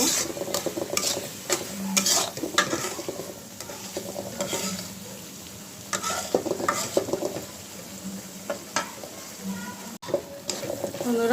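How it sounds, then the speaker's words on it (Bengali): Spice paste for a Bangladeshi-style sharpunti fish curry fries and sizzles in a pan, with repeated scraping and stirring strokes and occasional utensil clinks, close and fairly loud, no one talking. "মশলাটা আমি একটু ভালো করে কষিয়ে তারপরে ঝোলটা দিব"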